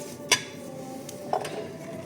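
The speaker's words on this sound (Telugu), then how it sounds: "ఇప్పుడు గిన్నెలు వేసుకోండి" Bowls are set down on a table, giving two light, close clinks of dishware about a second apart against a quiet room.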